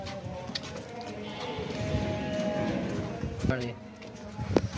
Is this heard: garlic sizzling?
no